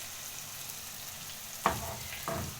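Onions dropped into butter and olive oil in a pan for chicken biryani, a soft steady sizzle with two sharp bursts as they land, fairly close and without voices.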